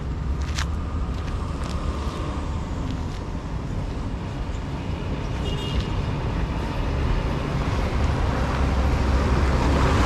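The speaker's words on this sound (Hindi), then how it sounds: "एक गाड़ी आ रही, इससे मंग के देखता हूँ।" A vehicle approaches along a road between Muglin and Pokhara in Nepal, a steady broadband rumble of engine and tyre noise that swells slightly toward the end, with no voices.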